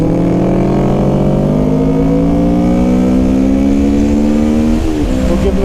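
Loud car engine on a race track during a first track day, revving steadily higher in one gear, then a brief dip near the end as it shifts between fifth and fourth. No voices.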